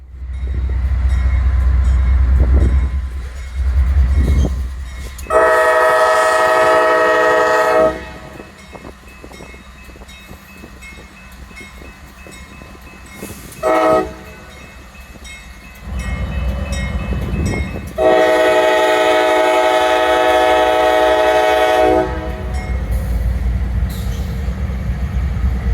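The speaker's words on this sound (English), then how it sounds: "Empty trash train 12T gets the signal to go in the yard first" An empty trash freight train with a locomotive pair rolls through a yard in Birmingham, Alabama, sounding its horn in two long chords and one short blast over heavy diesel rumble and rail noise.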